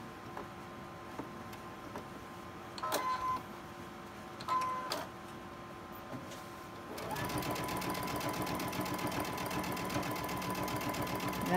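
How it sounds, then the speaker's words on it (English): A sewing machine stitches along a fabric edge for a pincushion. A few quiet clicks and handling noises come first, then the motor starts and runs steadily and close for the last few seconds. "I'm just going to sew along the edge here."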